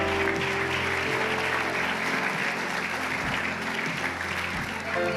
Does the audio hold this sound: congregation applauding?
yes